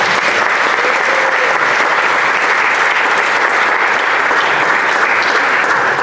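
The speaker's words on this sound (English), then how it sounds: "Let's give them a round of applause, please." An audience at a Universal Orlando Diagon Alley creative designers event claps steadily, a loud, dense wash of applause that holds evenly for the full six seconds with no voices breaking through.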